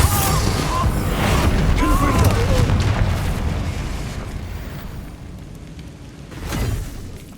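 Confringo explosion spell in the game Hogwarts Legacy, a loud rumbling blast that decays slowly, followed by a second smaller burst near the end, without talk.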